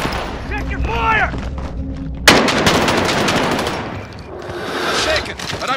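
Video game gunfire, loud and dense: heavy automatic fire with booming thuds over a rumbling backdrop, following a short spoken voice at the start.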